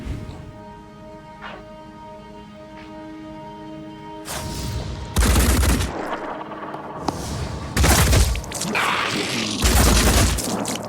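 Return gunfire in the Phoenix Point video game erupts in a few loud, sharp bursts after a calm stretch of tonal game music, each volley booming heavily and trailing off.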